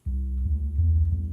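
A deep, sustained synth bass tone from a Skoog 2.0 electronic instrument in a low octave holds steady for over a second, loud and buzzy with rich low harmonics, no voices present.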